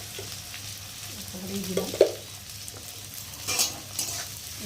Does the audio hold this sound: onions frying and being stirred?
yes